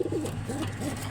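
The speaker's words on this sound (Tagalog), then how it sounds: "Yan yung kalapati natin guys, sa taas." Pigeons perched overhead coo in soft, rolling low phrases, two or three calls in quick succession, close and clear over a steady low background hum.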